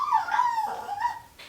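A puppy whimpers and cries close by in a long, wavering high whine that rises and falls, breaking into a couple of shorter whimpers, with no other sound.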